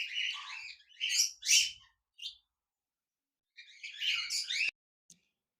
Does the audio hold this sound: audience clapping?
no